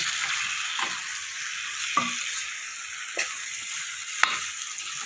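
Spiced potatoes and paneer are stirred in a frying pan for kadai paneer, a steady close sizzle broken by a few sharp spatula scrapes and taps against the metal.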